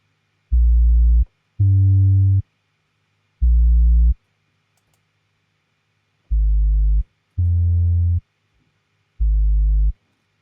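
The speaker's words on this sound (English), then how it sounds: "I also have a little bit of lo-fi on this bass" Deep, gritty bass notes with lo-fi distortion play in short bursts, two quick blasts, a pause, then a single one, repeating the pattern with silence between.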